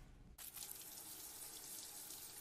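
Water from a shower suddenly starts running and then pours in a steady, hissing rush, fairly faint and with no voices over it.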